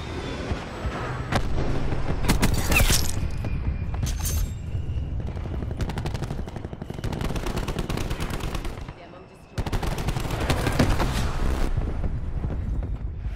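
Gunfire from an attacking Thresher gunship in the video game Black Ops 4, with loud rapid bursts and heavy booms. It goes on for a long stretch, pauses briefly, then resumes, and some game voice sounds mix in.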